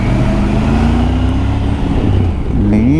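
Busy roadway traffic in Delta, Vancouver: a dense, close rumble of cars and trucks with an engine note rising in pitch near the end, loud and unbroken, no voices.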